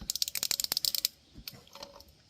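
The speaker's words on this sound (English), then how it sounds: "filter removal tool, put that right on there, tighten it up, and then you want to twist" Oil filter removal tool on a Honda Accord giving a rapid run of close ratcheting clicks, then a few slower scattered clicks and clunks as it twists.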